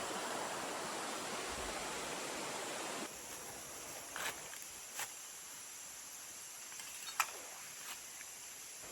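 The Kahe River flows past in a soft, steady broadband wash of rushing water, fairly faint and continuous, with a few small splashes and clicks on top.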